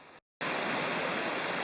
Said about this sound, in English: I think this may be the only significant creek crossing.